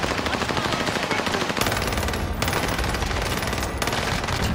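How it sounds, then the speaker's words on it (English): Rapid, sustained automatic gunfire from Call of Duty: Warzone rattles continuously at high volume, with a couple of brief gaps. "What, the sound of gunshots?"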